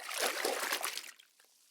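Cool drinking water poured in a short, close trickling splash that tapers off after about a second, alone without talk.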